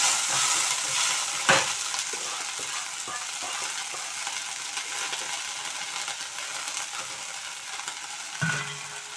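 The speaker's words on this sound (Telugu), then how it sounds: "ఇదే కళాయిలో, ఇదే డేక్షాలో ఆయిల్ అలాగే ఉందండి, కొంచెం కొత్తిమీర అయితే వేసేస్తున్నానండి." Coriander leaves frying in leftover oil in a kadai, a close steady sizzle broken by spatula scrapes and knocks against the pan.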